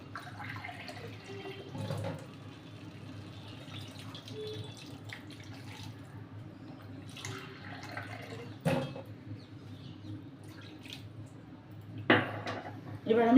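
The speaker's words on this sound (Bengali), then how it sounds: "এবার এটার মধ্যে দিয়ে দেবো জল।" Water runs into a cooking pan over frying spiced food with sugar added, a soft intermittent splash with a few clinks of utensils, fairly quiet in a home kitchen.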